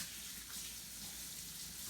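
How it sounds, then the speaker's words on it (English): Tap water runs steadily into a kitchen sink as hands are rinsed, a continuous close hiss with no talking. "Let me go rinse my hands off."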